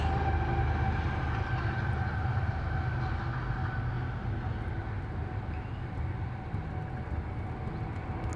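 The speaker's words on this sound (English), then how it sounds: "oops, we got the train going by." A train rumbles past at a steady, loud level, a dense continuous roar of wheels and rail noise that slowly eases toward the end.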